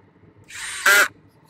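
Power drill driving screws into the faceplates of a rectangular in-ground swimming pool during liner installation: one short whirring burst of about half a second, rising briefly louder at the end, close by and with no talk.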